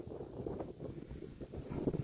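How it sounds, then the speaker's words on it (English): Strong wind buffeting a microphone on an empty highway during a real snowstorm, a steady loud rumbling roar with gusty swells throughout and no voices. "Look at the wind on my back."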